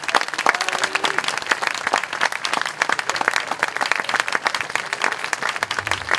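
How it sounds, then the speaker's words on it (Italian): Sustained audience applause at an outdoor summer concert evening, dense continuous clapping from a large crowd, steady and fairly loud for its whole length, with no talk over it. "grazie di questo applauso meraviglioso"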